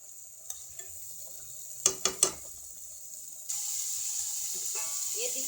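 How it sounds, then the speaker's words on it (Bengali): Onions hit a hot pan in a home kitchen: a few sharp utensil clacks, then a sudden steady hiss of frying that keeps going, fairly close and soft. "পেঁয়াজ দিলাম, সুন্দর করে কষে দিব।"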